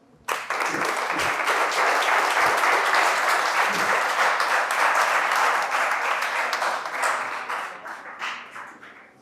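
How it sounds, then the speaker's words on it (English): Audience applause at a school debate conference as a team representative is welcomed, dense loud clapping that starts abruptly, holds steady for several seconds and thins out toward the end. "A round of applause, please."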